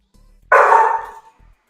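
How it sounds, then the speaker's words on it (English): A single loud, close dog bark rings out alone against a faint low hum, one short burst lasting well under a second. "There's going to be a barking dog."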